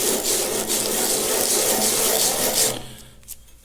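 Metal fuel tower part from a Caterpillar D2 diesel engine rubbed back and forth on sandpaper, a close, loud continuous rasping scrape that stops abruptly near the end.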